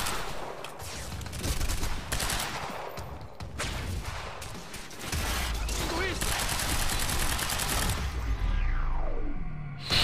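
Gunfire from a weapon in the Quantum Break video game, loud bursts of shots repeating across the stretch amid dense game sound, with a voice talking over parts of it.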